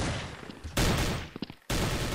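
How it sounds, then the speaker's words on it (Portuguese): Gunfire in the shooter game Blood Strike: dense, harsh bursts of rapid shots, a loud stretch breaking off briefly and then resuming at full volume, close and overwhelming. "O cara me atirando não sei da onde,"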